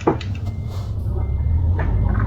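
A truck in Euro Truck Simulator 2 parks in reverse, with a steady engine drone underneath and a faint, repeated reversing beep that is partly buried in the low rumble.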